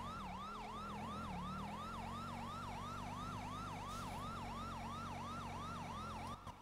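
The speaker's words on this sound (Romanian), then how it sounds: "Deci ești cu sirenele." A police siren in the GTA video game wails loudly and steadily in a fast, repeating rise-and-fall cycle over low engine rumble, continuing alone for several seconds before cutting briefly near the end.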